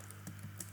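Typing on a computer keyboard at a desk, a few quiet, scattered key taps over a low steady hum.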